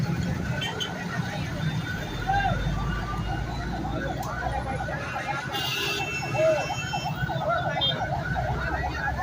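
A fire brigade truck siren wails continuously at the scene of a tanker accident, loud and wavering over general street noise, with people talking nearby.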